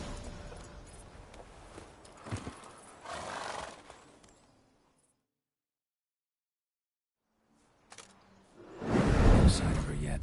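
Roach, the horse in The Witcher 3, sounds in the game with hoofbeats and a whinny. Someone speaks over them, then the sound cuts to silence before a loud burst of galloping and snorting returns.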